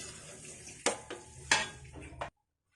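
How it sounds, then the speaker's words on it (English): A spoon stirs spaghetti with meat sauce and banana-ketchup spaghetti sauce in a pan, giving soft wet scraping with a few sharper knocks against the pan, close by, before it stops abruptly. "spaghetti sauce with banana ketchup is added, then again mix them all"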